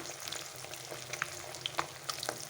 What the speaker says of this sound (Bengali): চলো এবার মাছটাকে আগে ভেজে নেই